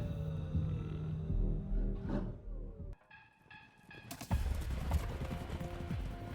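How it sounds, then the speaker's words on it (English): Hooves of wild mustangs clip-clop steadily across ground with horses moving nearby, a brief quieter gap midway before the trotting resumes, louder and denser. "Now there are the Mustangs, or wild horses"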